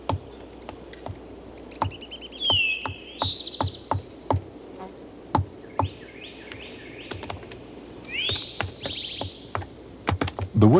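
Woodpeckers peck fresh holes into resin-coated trees with sharp, irregular taps, some in quick bursts, while bird calls ring out between the strikes.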